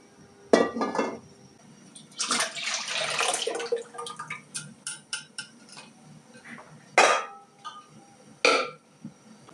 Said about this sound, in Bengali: ডালটা আমি একটা পাত্রে ঢেলে নিয়েছি।